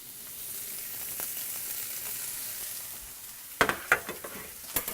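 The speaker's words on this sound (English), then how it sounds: "I'm going to add some of these little chanterelle mushrooms to the pan as well." Little chanterelle mushrooms frying in a hot pan, a soft steady sizzle that gives way near the end to a few brisk scraping stirs and clicks.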